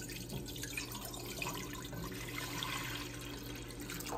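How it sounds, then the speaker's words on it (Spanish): Water from a cup pours into a small cooking pot over a medium flame while making champurrado, a faint, continuous splashing and trickling with no talk. "Voy a agregar las 4 tazas de agua."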